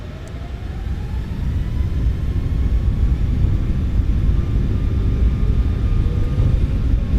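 Boeing 737 MAX 8 jet engines spool to takeoff thrust in a flight simulator, a steady, loud, low roar with a faint whine above it that builds slightly and holds through the whole stretch, no voices.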